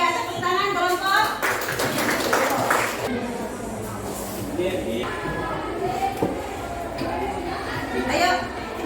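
A school classroom group claps in short bursts of applause mixed with student chatter and talking, with taps and thumps scattered throughout.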